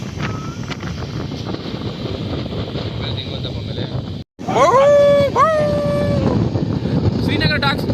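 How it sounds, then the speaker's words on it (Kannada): Dogs in snowy, cloudy Srinagar howl in long, rising wails that stand out over heavy wind rumble and road noise, with a brief dropout partway through. "ಶ್ರೀನಗರ ಡಾಗ್ಸ್"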